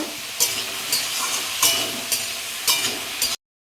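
Vegetables coated with chili powder fry in a pan, a close, continuous sizzle pulsing with a roughly even rhythm of stirring strokes about every half second, then cutting off abruptly.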